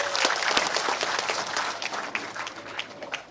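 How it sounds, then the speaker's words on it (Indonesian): An audience applauds, many hands clapping together in a dense, steady burst that fades slightly toward the end. "Bu Evi, boleh tepuk tangan untuk beliau."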